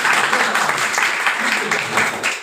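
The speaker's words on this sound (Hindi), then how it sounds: "नई बार मैम के लिए जोरदार ताली" An audience bursts into loud, sustained applause at a seminar on earning income, dense clapping filling the room for a couple of seconds before easing slightly at the end.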